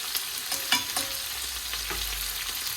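Garlic shrimp sizzle in olive oil in a pan while being stirred gently, giving a steady close frying crackle with soft utensil scrapes and taps and no voices.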